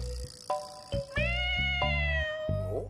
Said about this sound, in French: Un chat. J'adore les petits chats.